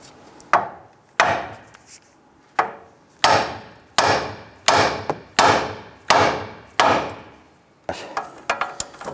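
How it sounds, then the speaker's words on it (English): A hammer striking the top of the steering knuckle on a 2002-2008 Dodge Ram 1500 during front lower control arm removal, about a dozen sharp metallic blows at a steady rhythm, each ringing briefly, then a few lighter taps. "I'm going to strike the top of the knuckle here"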